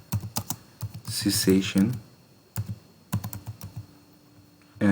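Computer keyboard keys are tapped in quick bursts of sharp close clicks with pauses, while a person speaks briefly in the middle.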